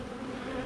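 Honey bees in a queen-rearing hive give a steady, dense, close buzzing drone that fills the short moment without any voices.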